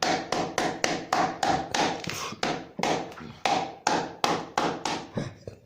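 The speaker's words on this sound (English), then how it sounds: "Then you hammer." Steady hammering close by on leather edges in shoemaking: around fifteen sharp strikes in an even, brisk rhythm, each ringing briefly before the next blow.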